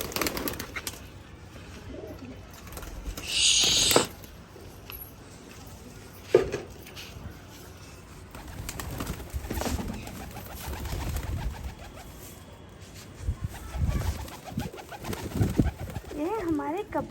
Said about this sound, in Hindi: और है इधर कबूतर हमारे। ये इतने सारे कबूतर।